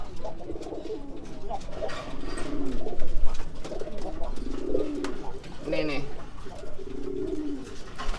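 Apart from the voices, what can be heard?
pigeon cooing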